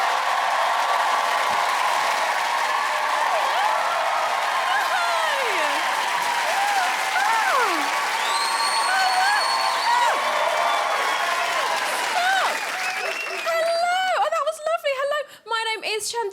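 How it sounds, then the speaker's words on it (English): A studio audience at a comedy show applauds, cheers and whoops for a comedian walking on, dense and loud throughout with whistles over the clapping, thinning near the end. "please raise the roof and make some noise for Chantel Nash!"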